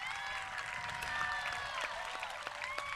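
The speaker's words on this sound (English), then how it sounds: "Let's give her one more round of applause" A graduation audience applauds at a high school ceremony, a steady wash of clapping from a large crowd heard at some distance, fairly quiet and even throughout with a few sharper claps standing out.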